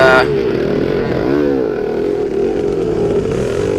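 A 1974 Yamaha MX360 two-stroke motorcycle races in a vintage cross-country event, its engine revving and droning steadily nearby with a rising-and-falling pitch as it passes.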